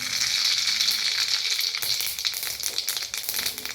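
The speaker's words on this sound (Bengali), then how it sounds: "তেলটা আমার গরম হয়ে গেছে, আমি এখানে দেব 1 চামচ সর্ষে ফোড়ন।" A teaspoon of mustard seeds crackles and spits in hot oil for a Bengali lau shukto, a steady close sizzle dotted with quick popping bursts and no voices.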